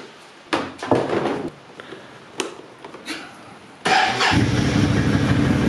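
A Can-Am Outlander 650 ATV engine turns over with a few short bursts, then catches and settles into a steady, loud idle rumble that continues to the end.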